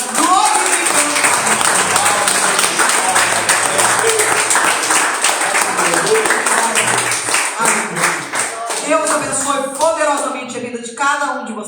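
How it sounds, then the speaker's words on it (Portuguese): Congregation applauding in a church service, loud sustained clapping from many hands for several seconds that thins out near the end as voices rise over it. "Se você crê no que você orou e recebe, aplauda ao Senhor."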